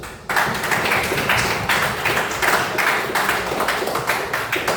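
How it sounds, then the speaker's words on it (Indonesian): A classroom audience applauds, giving a sustained burst of many hands clapping at once that starts abruptly and continues at steady volume to the end. "Oke, beri aplaus dulu."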